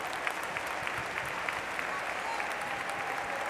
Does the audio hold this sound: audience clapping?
yes